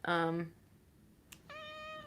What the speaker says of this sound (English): She is totally meowing like right into the mic.